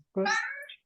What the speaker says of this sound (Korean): 고양이 소리예요.